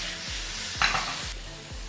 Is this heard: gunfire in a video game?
no